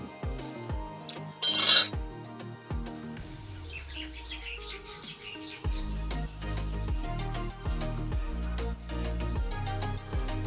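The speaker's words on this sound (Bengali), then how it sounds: "কড়াই চাপিয়ে দেবো" A kadai (wok) is set down on a stove for making mango pickle, a sharp metallic clunk followed by scattered clinks and clatter of cookware, with birds chirping faintly nearby.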